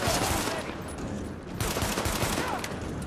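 A pistol fires rapidly in Tom Clancy's The Division video game. The dense, loud shots come in overlapping bursts, with a brief lull midway before the firing resumes.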